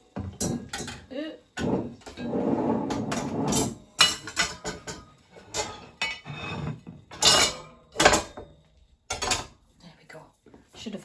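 The inner pot of a Cosori pressure cooker is lifted out and set down during mushroom risotto cooking, producing close metallic clanks and knocks in bursts, with a person talking between the sounds.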